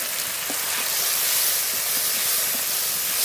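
Ground spice paste of coriander, cumin, ginger, dried and green chilli, salt and turmeric sizzles steadily in a hot pan with water added, a loud continuous hiss filling the whole stretch with faint stirring clicks.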